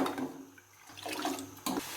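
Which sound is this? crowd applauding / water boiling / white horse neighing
water boiling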